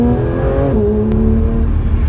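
A Porsche 911 GT3 RS flat-six revs loud and close, its engine note holding steady then dropping in pitch midway, continuing as a strong sustained drone with no talk.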